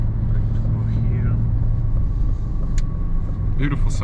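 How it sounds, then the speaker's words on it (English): A 2025 Aston Martin Vantage drives on the Monaco F1 track, its engine a steady, loud, low rumble heard from inside the car, with a brief higher whine near the end. "Beautiful sound of the car."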